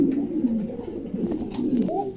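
Three female pigeons of mixed fancy breeds coo nearby in a steady, low rolling series, close and fairly loud, with no talk over them.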